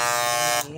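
A loud, noisy electric hair clipper runs steadily with a harsh buzz, then drops to a quieter hum near the end of the short burst.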